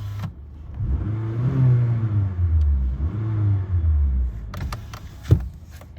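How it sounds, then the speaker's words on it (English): A 2013 Honda Accord EX four-cylinder engine revving: two rising and falling rev sweeps from idle, close and steady, with no one speaking. "Let's hear it rev one more time."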